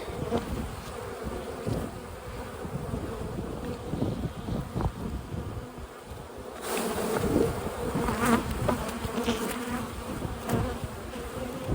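Honey bees buzz densely around an opened late-season bulk split hive, a steady close swarm hum with individual bees zipping past the microphone and light wind noise.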